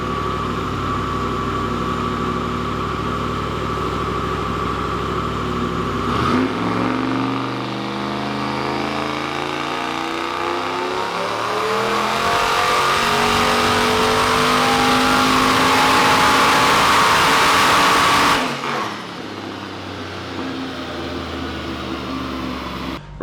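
A boosted iron-block LS engine running on E85 fuel roars close and loud, holding steady before climbing in a long rising rev, then dropping back abruptly to a lower drone.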